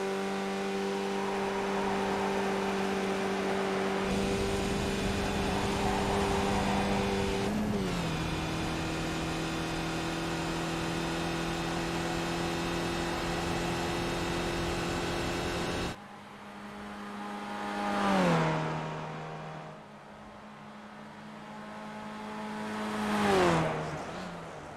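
Race car engine in a sim racing game at Watkins Glen, a loud sustained whine that steps down in pitch at gear changes, then two swelling rev surges, no talking.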